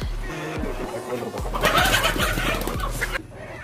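Chickens cluck repeatedly at a poultry farm near a house, a busy flock with overlapping calls close to the recorder, fairly loud and without speech.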